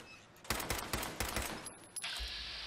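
A rapid burst of gunfire in Fallout 4, about six or seven close, sharp shots in quick rhythm, followed by a brief metallic clatter and a lingering hiss.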